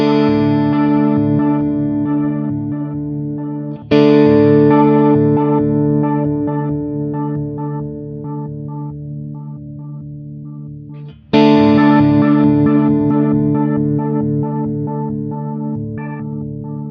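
Strymon Nightsky time-warped reverb pedal running its sequencer, stepping through a different pitch on each step: a rhythmic pulsing pattern of shifting tones under lush reverb, with two fresh attacks restarting the loud, steady texture.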